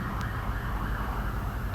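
A siren sound effect: a continuous, loud wailing emergency-vehicle siren, steady and close, with a low rumble beneath and no voices.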